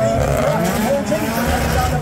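A grey and green Mazda MX5 drifts at a gymkhana event, its engine roaring steadily with sustained tire squeal, close and loud beneath a commentator's voice.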